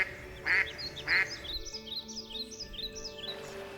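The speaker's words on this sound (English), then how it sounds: "mother mallard duck quacks" Two loud, close quacks from a mother mallard duck near the start, then quieter chirping calls continue over an outdoor pond backdrop with turtles and ducklings nearby.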